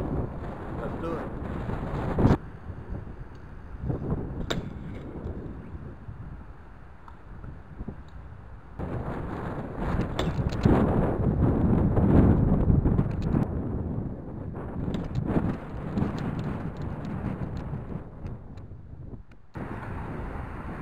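Wind buffets a microphone outdoors with a loud, rumbling roar that swells and dips in gusts, peaking in the middle and continuing throughout.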